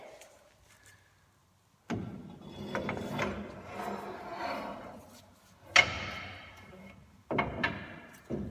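A ratchet tool clicks and metal parts clunk as a Dodge Ram drive shaft is reinstalled, with sustained ratcheting and sharp knocks at close range.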